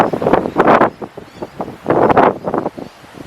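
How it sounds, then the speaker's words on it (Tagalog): Strong wind gusting outdoors beside a mailbox and car, buffeting the microphone in loud uneven bursts that rise and fall. "Oh, sobrang hangin, guys."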